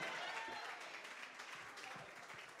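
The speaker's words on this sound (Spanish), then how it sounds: "Aplauso para recibirlo, por favor" A live comedy-show audience applauds to welcome a performer announced as José José, a dense, steady wash of clapping with faint voices mixed in, loud and sustained throughout.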